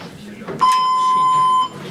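A quiz timer in a What? Where? When? music game gives one steady electronic beep lasting about a second, clear and fairly loud, with low room murmur before and after.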